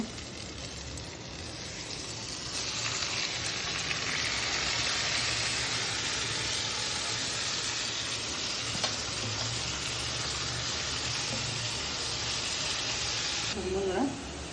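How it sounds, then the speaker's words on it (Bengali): Kachki fish sizzles and fries steadily in hot oil with peanuts, a dense, bright crackle that swells louder after a few seconds and holds without letup, with faint kitchen clatter near the end. "মাছটা দিব তেলের মধ্যে"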